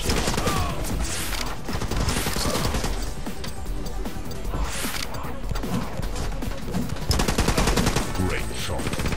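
Rapid bursts of gunfire rattle through a warehouse firefight in The Club, dense overlapping shots and machine-gun volleys continuing almost nonstop, loud and close.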